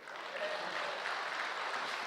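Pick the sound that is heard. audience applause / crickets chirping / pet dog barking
audience applause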